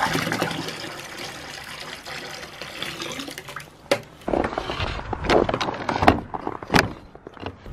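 Water poured out for goats at a farm barn in freezing weather, a continuous splashing pour followed by irregular sloshes and drips, close and fairly quiet.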